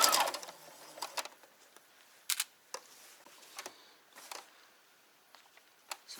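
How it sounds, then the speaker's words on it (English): A sewing machine stitching a shopping bag made from bed sheets runs in short, faint, intermittent bursts of whirring and clicking, separated by quiet pauses. "So I finished sewing a whole row, and I'm going to do another row."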